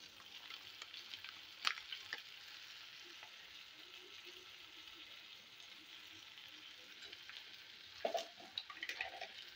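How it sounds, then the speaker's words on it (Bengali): Biryani masala and coriander powder fry slowly in a pan over low heat with a quiet, steady sizzle. Faint spoon scrapes and clinks from stirring stand out in a couple of brief spots. "এটা দেওয়ার পরে আমি ভালো করে কষিয়ে নেব।"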